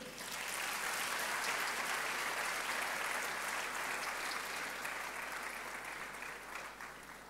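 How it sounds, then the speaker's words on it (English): Audience applause at a university's 50th anniversary celebration, dense sustained clapping filling the hall, steady throughout and easing slightly toward the end. "please applaud her"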